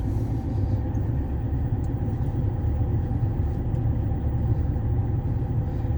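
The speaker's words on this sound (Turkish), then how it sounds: "Burada aracımızı az hızlandırıyoruz ve vitesimizi 2'ye alıyoruz." A car on a driving-school test route in Ataşehir speeds up a little and shifts into second gear, giving a steady, loud, close engine rumble with no clear break for the gear change.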